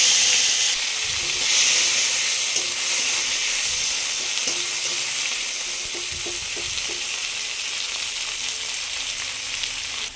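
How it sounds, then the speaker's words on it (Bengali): Chopped onions fry in hot oil in a wok for a tangra fish curry, giving a steady, close sizzle broken by occasional light scrapes and clicks from a stirring spoon, with no voices. "কড়ার তেলটা ভালো করে গরম হয়ে গেছে আর আমি আগের দিয়ে কুচিয়ে রাখা পেঁয়াজ কড়াতে দিয়ে দিলাম"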